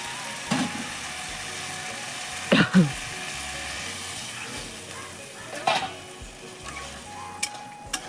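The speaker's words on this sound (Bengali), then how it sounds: "আলু মশলার সাথে সাথে কষাই" Potatoes frying in a pan with spices while being stirred, a steady sizzle with a few scraping stir strokes and clanks of the utensil, close and fairly quiet, with no talking.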